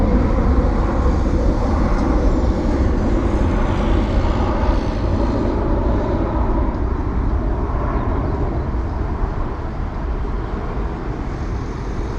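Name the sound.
Turkish Airlines Airbus A330 departing Heathrow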